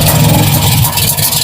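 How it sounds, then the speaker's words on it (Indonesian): A Daihatsu Bemo Midget engine runs loud and close with a steady, rough mid-pitched drone, with no separate starter sound audible. "kalau kita starter tuh langsung tahu-tahu mesinnya glinding gitu"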